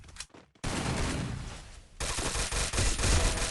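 Automatic gunfire from a battle royale video game firefight, with a short burst and then sustained rapid fire rattling loudly and continuously, briefly dipping before another dense, heavy volley.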